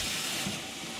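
Sausages rinsed under a running kitchen tap give a steady, close broadband hiss of flowing water that stays even for about a second.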